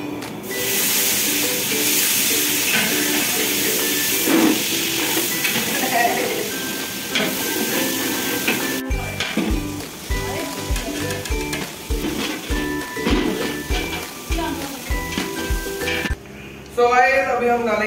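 Onions hiss and sizzle steadily in hot oil in a pan, with frequent stirring scrapes and clatter, and people talking throughout.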